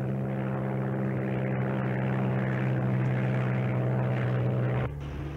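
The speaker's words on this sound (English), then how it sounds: "amerikanisches Flugzeug" An American propeller airplane flies overhead with a loud, steady droning engine hum, then the tone drops and thins near the end as the aircraft passes.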